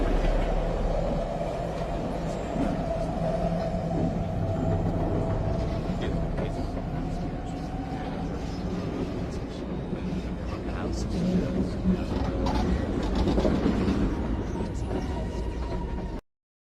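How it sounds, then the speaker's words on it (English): Metro train running on rails, a steady loud rumble with a low hum and rattling clatter throughout, continuous and close, ending abruptly. "The train makes 2 stops at 20th and 33rd."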